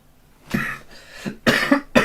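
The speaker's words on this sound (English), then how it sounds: "Still can't shift this cough, which is really frustrating." Several harsh coughs in a row, close and loud, with short pauses between bursts and no talking.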